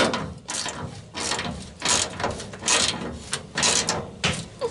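A nut and bolt being undone on a support inside a Citroën Traction 11B during rear seat belt installation, giving repeated loud ratcheting clicks in bursts with short pauses, close by and alone.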